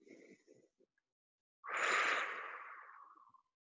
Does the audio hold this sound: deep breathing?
yes